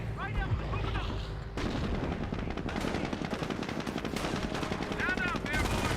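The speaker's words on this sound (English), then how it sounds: "Sniper firing way over here." Rapid machine-gun bursts and sharp sniper rifle shots from a Company of Heroes WWII strategy battle crackle continuously and loudly, layered with distant artillery booms throughout, with no pauses.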